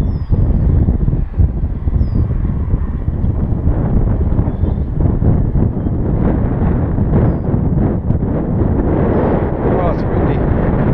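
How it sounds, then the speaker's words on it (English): Steady wind noise roars loudly against the microphone while a small sub-250 g jet drone flies fast at about half throttle, continuous and rough throughout. "Oh, it's windy."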